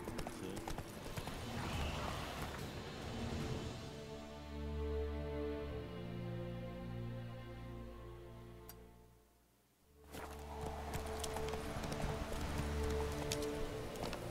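Roach the horse gallops in the video game The Witcher 3: Wild Hunt, with steady, close clip-clop hoofbeats that briefly drop away near the end before the galloping resumes.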